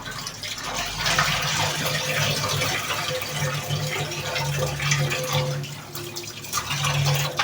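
Water runs steadily from a tap during washing in a cracked bowl, a loud continuous gush and splash with slight shifts in flow and no speech.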